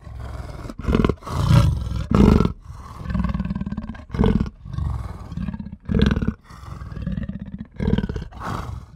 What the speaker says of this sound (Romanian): Leopard.